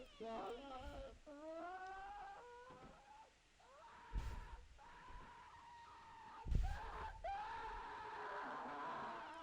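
A monster in the horror video game Housebound screams with long, rising and falling wails. The cries go on almost without a break, at a fairly faint level, mixed with thuds and rumbles.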